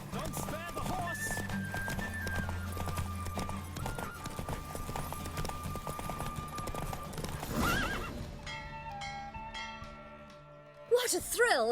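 Galloping hooves drive a horse race in The Witcher 3, fast and close, with a loud whinny, game music throughout and speech over the top before the hoofbeats fade near the end.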